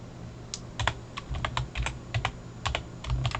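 Keys clack on a computer keyboard in quick, irregular bursts of separate taps, close and fairly quiet, with short pauses between runs.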